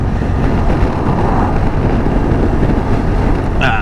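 Steady, loud wind roar buffets a rider on a Kymco AK550 Premium scooter during a road trip, a continuous broadband rush with no pauses and no voices.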